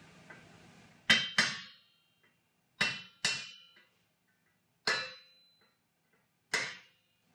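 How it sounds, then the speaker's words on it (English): A centre punch is struck with a hammer into steel trunking, giving sharp ringing metallic clangs, mostly in quick pairs with pauses between, close and clear over a quiet background. "Next, use your punch again."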